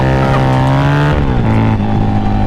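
Harley-Davidson V-Rod motorcycle engine revving up loud and close, a rising throaty drone that dips briefly as it shifts, then pulls on steadily, with no speech over it.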